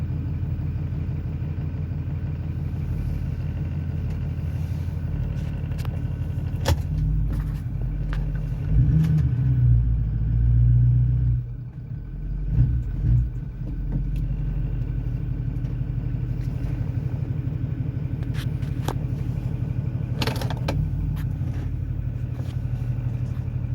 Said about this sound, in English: Let's just try backing the truck out of the shop and then pulling it back in.